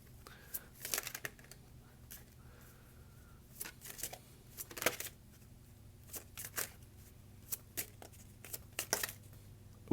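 Tarot cards shuffled close up in repeated soft riffling bursts with quiet crinkly handling between them, at low level, no talking.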